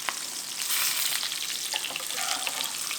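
Steak sears in a hot pan with a constant loud, close sizzle and crackle and no pauses.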